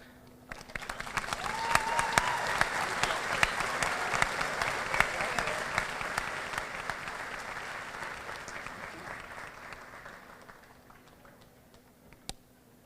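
A graduation ceremony audience applauds a student speaker, the clapping swelling quickly into a dense, sustained ovation before slowly thinning out, with a final sharp clap near the end.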